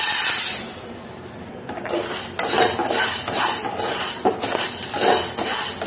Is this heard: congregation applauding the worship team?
no